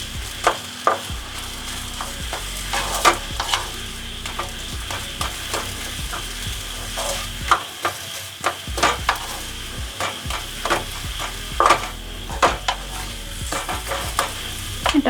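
Potato ball mixture being stirred with salt and sugar, with repeated scraping and knocking strokes in an irregular rhythm at close range.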